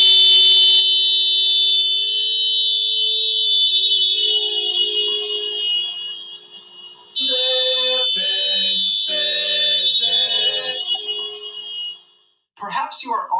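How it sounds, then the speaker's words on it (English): Doppler effect demonstration: a loud, steady, high alarm-like tone sustains and slides slightly lower in pitch, then breaks into a stuttering, pulsed stretch before cutting off, close and alone. "The Doppler effect is named after Christian Doppler"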